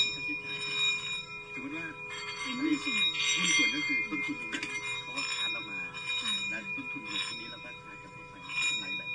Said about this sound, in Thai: ฝึกสมาธิด้วยการใช้ไม้เลียขอบระฆังทิเบตอย่างต่อเนื่องเสียงจะค่อยๆกังวานขึ้นกังวานขึ้น